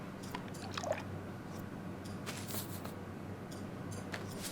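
Water pours into a cooking pot with bone-in chicken in the cooking game Venba, a soft liquid squish and trickle heard up close against a steady low hum, with no voices.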